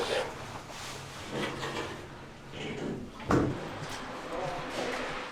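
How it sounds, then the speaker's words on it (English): Train doors slide shut at a station on a rail line, a sharp thud near the middle amid steady rumble and nearby talk. "Doors closing."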